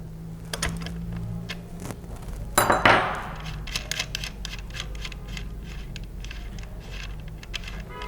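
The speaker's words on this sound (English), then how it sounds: "Grab your 15mm wrench and remove the acorn nut" A 15mm wrench removes an acorn nut from a bicycle training wheel. Sharp metallic clicks and ratcheting taps sound close by, with a brief clattering burst near the middle and scattered light ticks after it.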